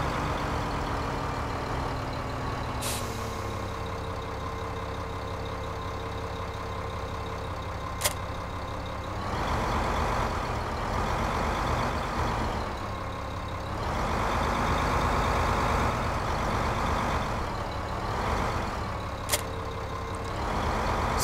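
Tractor in Farming Simulator 2015, a steady low engine drone with shifting hum and rev changes, a few sharp clicks, and a louder stretch midway, with no talk.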